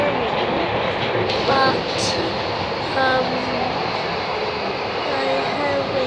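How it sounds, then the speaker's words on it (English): Steady, loud rumble and rattle of a moving train heard from inside a carriage, with a constant roar throughout and a person talking close over it. "I'm on the train"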